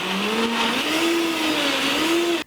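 Blender whirs through toasted almonds and bell pepper, a loud, steady high-pitched motor whine that rises slightly in pitch as it runs, then cuts off abruptly at the end.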